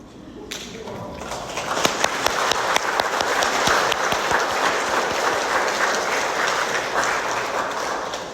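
Church congregation at a weekday Catholic Mass in a Korean parish applauding parishioners on their feast day, a dense burst of clapping that rises quickly and holds steady for several seconds in a reverberant hall.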